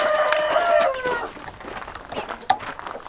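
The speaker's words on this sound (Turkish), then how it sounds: "Hint horozları." Indian game roosters in a coop give a loud crow that rises and falls over the first second, then scattered clucks and softer calls from other birds follow, fairly close.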